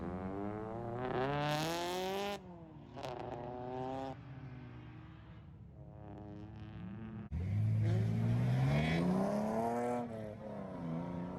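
A car drifting on a track with dirt edges, its engine revving and rising in pitch through the corners and surging loudly again after a brief dip, as it sweeps through a fourth-corner turn.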